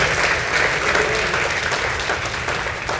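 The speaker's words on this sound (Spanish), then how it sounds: "Ahora séllelo con un aplauso para el Rey, por favor." A church congregation breaks into sustained, loud applause honoring the King, a dense wash of clapping filling the room steadily with no voices over it.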